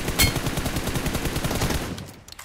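Rapid automatic gunfire from the PUBG Mobile battle game rattles in a fast, steady burst of close shots for about two seconds, then cuts off.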